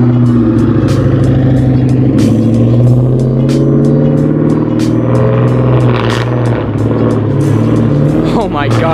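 A loud Ford Mustang GT engine idles and then pulls away up close. It makes a dense, steady rumble with throbbing harmonics for about nine seconds, and voices can be heard over it.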